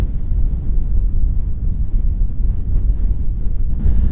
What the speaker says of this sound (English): The wind is really starting to ramp up, and it's getting windier and windier all the time.